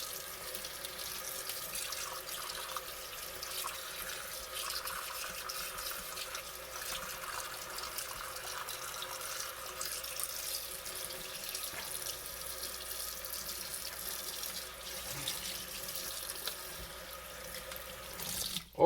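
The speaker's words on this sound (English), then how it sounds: "Let's clean it with cold water." Cold tap water runs steadily into a sink to rinse a fish, a continuous soft splashing hiss that stays even throughout, with no talk over it.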